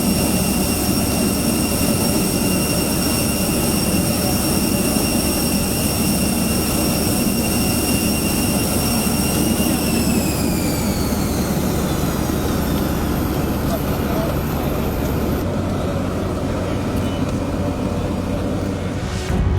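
A jet airliner arriving at Katunayake international airport after a flight from Jakarta, its engines a loud, steady roar with high whining tones that sweep down partway through as the aircraft slows, running continuously throughout.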